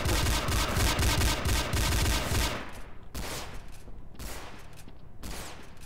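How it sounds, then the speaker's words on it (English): Rapid bursts of video game gunfire, dense and continuous at first, then breaking into separate volleys of repeated shots, loud and close with no talk over them. "I've shot him in the head 14 times."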